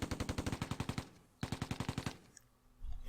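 Machine gun fire in the game Tigers on the Hunt: two rapid bursts of evenly spaced shots, about a dozen in the first and nine in the second, with a short pause between them.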